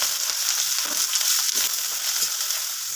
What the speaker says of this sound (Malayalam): കടുക് വറുത്ത് സവാളയൊക്കെ അതിനകത്തിട്ട് വഴറ്റി കൊടുത്തു.